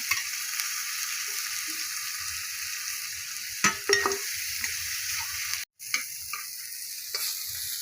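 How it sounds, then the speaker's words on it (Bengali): Red lentils and chopped onion fry in oil with a continuous close sizzle, plus occasional scraping clinks from stirring in the pan; no voices. "না ডাইলটাও ভাজা হবে, পেঁয়াজটাও ভাজা হবে।"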